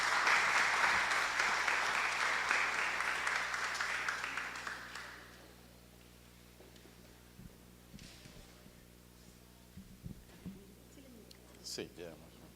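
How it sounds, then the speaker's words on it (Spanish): An audience applauds to welcome architect Fabio Ramírez at an evening lecture on hospital architecture, with steady clapping for about five seconds that fades out. Quiet room noise and scattered small sounds follow. "Recibámoslos pues con un fuerte aplauso al arquitecto Fabio Ramírez"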